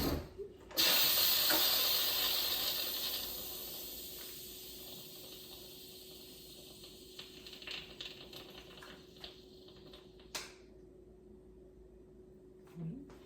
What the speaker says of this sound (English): then we can release any remaining steam